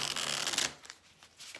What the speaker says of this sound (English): Let's get some good shuffles here